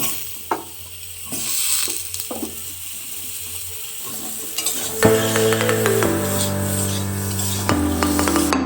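Potatoes being stirred and fried in a pan for a katla fish and cauliflower curry, a steady sizzle with repeated scraping stir strokes that grow louder midway, near and without talk.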